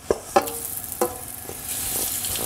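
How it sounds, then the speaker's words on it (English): Oil heating and frying in a wok as a chicken stir fry gets underway, a few sharp crackles and pops early on, then a steady hiss of sizzling rising toward the end, fairly close with no talking. "Okay, we can start frying."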